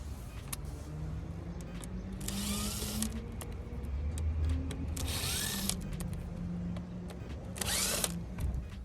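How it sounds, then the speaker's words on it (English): Three Phillips screws are backed out of a Genesis G90 interior trim panel with a power driver, three short whirring bursts close by, each separated by quieter handling and rustling, with no talk. "We're going to remove 3 Phillips screws."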